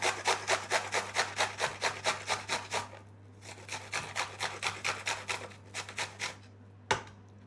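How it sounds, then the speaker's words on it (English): An onion rubbed against a kitchen grater makes quick, rhythmic rasping strokes, close and fairly quiet, in two bursts separated by a short pause, with no speech. "use that, oops, to grate some of the onion"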